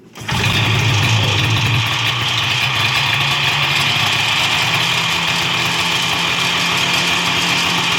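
A Yamaha Banshee 472 two-stroke engine fitted to a Cheetah SuperCub fires on a pull start and settles into a steady, close, buzzing idle that runs continuously.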